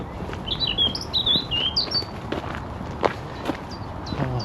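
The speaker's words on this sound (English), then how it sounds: "Oh, I love this bird noise." Woodland birds sing at Brockholes Nature Reserve, bright chirps and whistled phrases near the start, with footsteps crunching along a path beneath them and a faint background hush.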